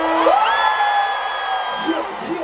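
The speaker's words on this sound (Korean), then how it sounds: "큰 박수 부탁드립니다." A crowd at a school concert cheering and whooping loudly, with sustained rising shouts and yells blending into a continuous roar near the stage.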